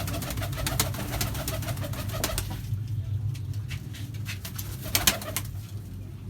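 Bazi racing pigeons coo in low, continuous murmurs inside a loft, with occasional sharp clicks and flutters over the steady cooing.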